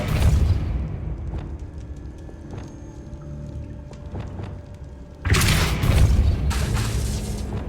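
A Compulso spell cast in the Hogwarts Legacy video game: a long, low rumbling bed with scattered soft thuds, then a sudden loud, broad burst that keeps roaring to the end.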